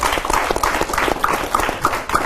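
A short stretch of audience applause for an ambassador at a televised panel discussion, made of quick, rhythmic hand claps at a moderate level without a break.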